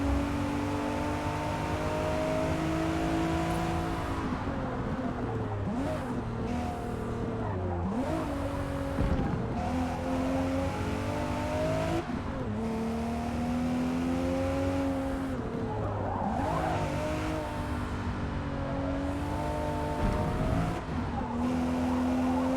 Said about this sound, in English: Something nice about driving a car at sunset.